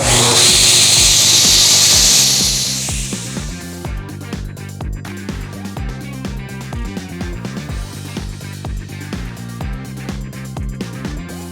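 A panel saw with a scoring blade cuts a veneered board, starting with a loud high whine that fades after about three seconds into a lower, rhythmic mechanical hum and chatter that continues close and steady, with no talking.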